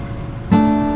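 A single guitar strum rings out halfway through after a low background murmur, the chord sustaining clearly to the end.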